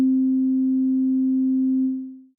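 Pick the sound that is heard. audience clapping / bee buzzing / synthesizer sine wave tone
synthesizer sine wave tone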